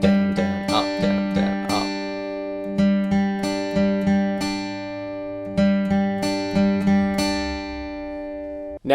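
Guitar plays the intro riff of a song, strummed chords in a down-down-up pattern repeating in steady phrases, close and clear, alone without voices.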